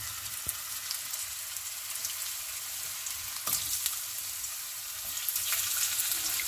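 Potato slices fry in oil in a pan for a desi-style Spanish omelette, a soft, close, steady sizzle broken by a few light clinks and scrapes.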